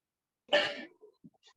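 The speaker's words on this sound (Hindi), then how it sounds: "मुझे खांसी आ रही थी इसलिए" One sharp, close cough bursts out, followed by a few faint breaths and small throat sounds in otherwise quiet surroundings.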